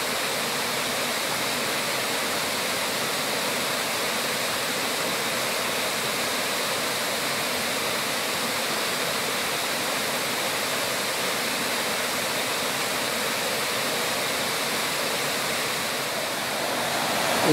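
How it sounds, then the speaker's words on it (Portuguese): A waterfall roars steadily from the top of the falls, a dense continuous rush of falling water heard close and even for the whole stretch, with no voices. "Agora eu estou na parte de cima da cachoeira."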